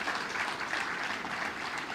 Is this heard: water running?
no